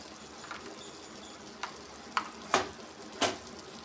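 Spice powders fry in a pan for a chicken masala ridge gourd curry, giving a soft, low sizzle broken by a few sharp clicks of a spoon against the pan.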